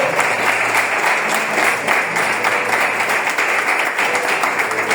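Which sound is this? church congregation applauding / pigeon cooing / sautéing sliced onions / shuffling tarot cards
church congregation applauding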